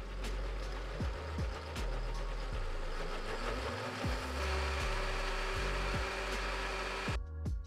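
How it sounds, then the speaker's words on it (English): A kitchen blender whirs steadily as it grinds a jalapeno mixture into a thick paste, the motor droning with periodic lurching thumps, then stopping abruptly near the end. "Over to the blender. Now give it a whirl."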